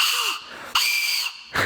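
Breathy, high squealing tones from a homemade carrot recorder fingered with three holes covered, in three bursts separated by short gaps, close and fairly loud.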